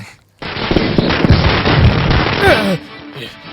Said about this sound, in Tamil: யார் அவன் மனுஷனை நிம்மதியா தூங்க விடாம வெடிய போட்டது?